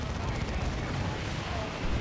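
Dawn of War 2 Dreadnought firing its assault cannon in a sustained barrage, a dense, continuous roar of rapid heavy fire with booming low rumble and no pause across the whole stretch.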